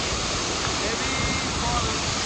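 Joshi waterfall in heavy flow during rain roars as a loud, dense, unbroken wash of rushing water close by, with no pauses.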